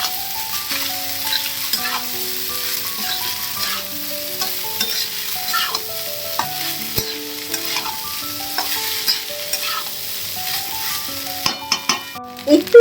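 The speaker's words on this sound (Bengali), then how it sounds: "খুব ভালো করে এবার মিক্স করতে হবে রাইসটা" Rice with spices being stirred and fried in a pan, a steady sizzle with repeated scraping strokes of a spoon throughout, close and moderately loud, with a few sharper clatters near the end.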